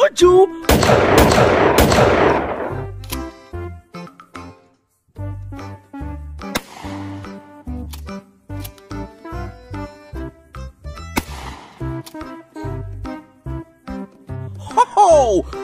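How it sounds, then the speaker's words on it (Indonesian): Shotgun 1897 firing in a video game: a burst of dense, loud blasts at the start, then a long run of short, sharp repeated shots and clicks with brief gaps, ending in a quick rising whoosh. "di sini ada shotgun 1897"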